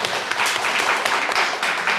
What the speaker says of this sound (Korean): 우리 이분들께 격려의 박수 다시 부탁드립니다.